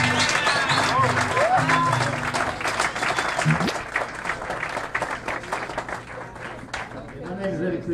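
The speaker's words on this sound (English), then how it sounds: "Give the band another big round of applause" A crowd in a pub claps and cheers for a live band in a dense burst of applause that gradually thins out, with a voice talking over it.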